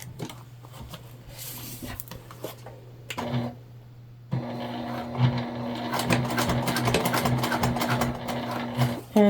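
A sewing machine top-stitches between zipper tabs on a sling bag. It starts with a brief whir, pauses, then runs in a long steady buzzing hum with a dense mechanical rattle.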